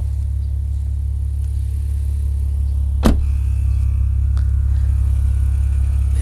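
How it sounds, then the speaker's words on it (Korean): Maserati Levante idling in sport mode with the exhaust flap open, a steady deep low rumble throughout, heard close up, with a single brief sharp knock about halfway through. "스포츠 모드 눌러서 배기 플랩을 한번 열어보도록 할게요."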